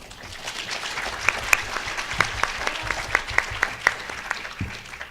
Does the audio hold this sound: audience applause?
yes